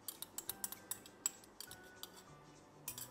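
Lukewarm liquid is stirred into a bowl, heard as a quick series of light metal clinks and taps of a spoon against the dish, close and quiet, with short pauses between bursts.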